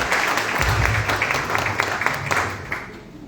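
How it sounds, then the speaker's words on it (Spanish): Audience applause welcomes Dr. Angélica Cuellar Vázquez to a lecture at a university, with steady, dense clapping throughout that fades slightly toward the end. "Recibamos con un fuerte aplauso a la doctora Angélica Cuellar Vázquez."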